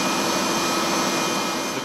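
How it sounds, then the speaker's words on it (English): Inside the cabin of a C-17 aircraft, the engines produce a loud, steady broadband roar with a faint whine, continuous and unbroken throughout. "passengers must wear earplugs to protect against engine noise"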